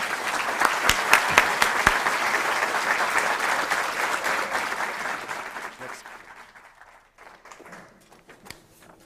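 An audience applauds a speaker's introduction at an evening lecture, a dense, loud burst of clapping with a few sharp near claps that gradually thins and fades to scattered claps over about nine seconds.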